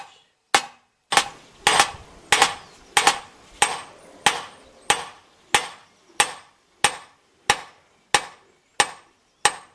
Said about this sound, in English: I spend too much time peening, banging the hammer here